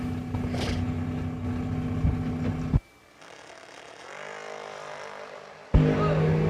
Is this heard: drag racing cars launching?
yes